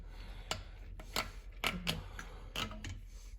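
A small spacer is worked loose from an Allis B tractor transmission packed with dirt, producing faint, close metallic taps, scrapes and clicks in an uneven series.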